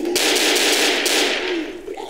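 A rapid burst of gunfire from the zombie video game Left 4 Dead crackles loud and dense for about two seconds, then cuts off.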